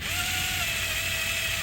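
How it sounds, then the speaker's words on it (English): A power drill runs steadily while working on a push mower carburetor during carb cleaning, giving a continuous, even mechanical whine with a high tonal hum and no speech over it. "Just angle up the drill some."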